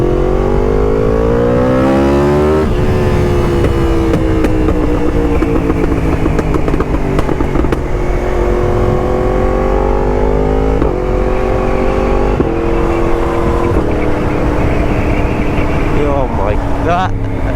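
A Yamaha MT10 fitted with a loud Akrapovic exhaust revs and pulls through the gears, engine pitch climbing and dropping with sharp shifts and throttle blips, loud and close throughout a continuous ride.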